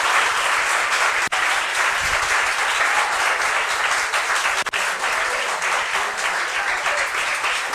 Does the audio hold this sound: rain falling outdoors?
no